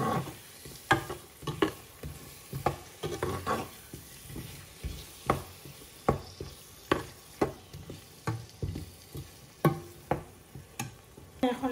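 Taro pieces fry with spices in a pan, a soft steady sizzle punctuated by regular scraping and tapping strokes of a stirring spoon, quiet and close with no talking.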